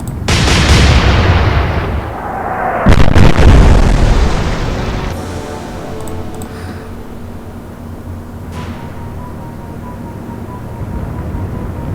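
Warship guns firing in the naval video game Atlantic Fleet: a loud opening blast, then a second heavy boom about three seconds in, each rolling off into a long fading rumble with faint later reports.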